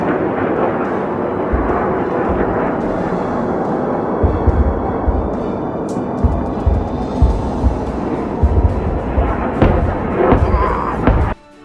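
Hundreds of rockets fired from Palestine make a dense, loud, continuous roar, with recurring deep thumps and rumbles that carry on and then cut off abruptly at the end.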